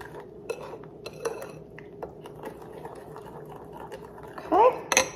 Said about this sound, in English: And a little stir.